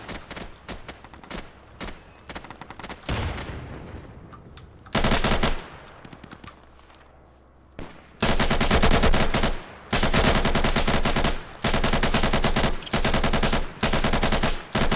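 Video game gunfire in a PVP match, with bursts of rapid automatic fire, some sharp single shots, and long sustained volleys separated by short pauses, loud and close.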